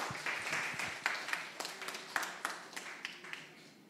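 Applause from a church talk audience: scattered, uneven hand claps at close range, with distinct individual claps popping out over a thinner background of clapping that gradually tapers off.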